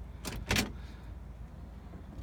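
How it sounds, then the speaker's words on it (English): A door on a 1960 Cadillac convertible opens and shuts, giving two quick close clunks in succession followed by quiet background. "Doors open and close like they should."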